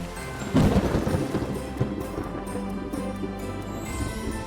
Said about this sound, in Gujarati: એક દિવસ તો મોટું તુફાન આવે છે